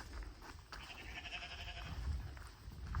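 A goat on a farm bleats in a few wavering, nasal calls over soft outdoor background noise, fairly close and without speech.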